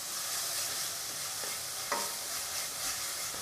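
Tomatoes with a spoonful of salt cooking in a pan for a marrow curry, a soft steady sizzle with a single clear stir scrape near the middle, faint and close.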